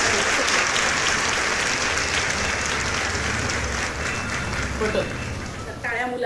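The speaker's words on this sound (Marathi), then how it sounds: "टाळ्या मुलांनो, टाळ्या" Group of children clapping at a school gathering, continuous loud mass applause with a rumble of noise beneath, briefly dipping before picking back up at the end.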